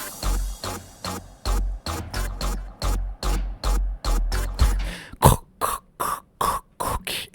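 A track sped up until its main sound becomes a gagging, retching noise, a rapid train of short, rhythmic, throaty bursts pulsing evenly, with a sharper, brighter burst near the end.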